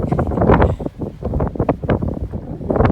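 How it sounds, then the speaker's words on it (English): Strong gusty wind buffets the microphone in uneven rushes at a high point on the Continental Divide Trail, loud and close, with no other sounds standing out. "Ooh, it's windy."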